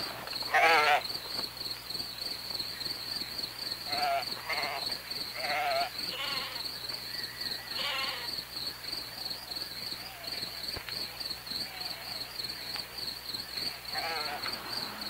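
Goats bleat several times at middle distance in the open countryside during a hunt, over a steady high chorus of crickets and insects.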